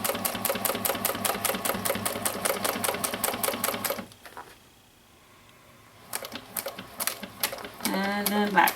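A sewing machine stitches a tote bag in fast, steady bursts, pausing for a few seconds in the middle before starting up again with short runs.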